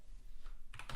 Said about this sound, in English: so now we're gonna just type 7.